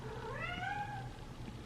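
A pet cat gives a single drawn-out meow that rises and then falls, close by and fairly soft, against a quiet low background hum.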